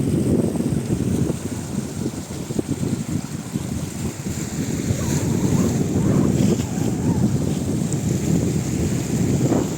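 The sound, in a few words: sea waves crashing against rocks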